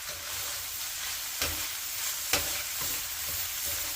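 Cooked chorizo being stirred into a breakfast hash in a skillet: steady frying sizzle with two sharp scrapes of a utensil against the pan, no talking.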